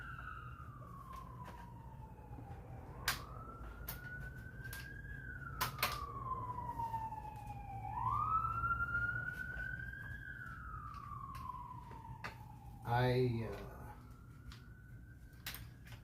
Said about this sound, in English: hear the sirens out there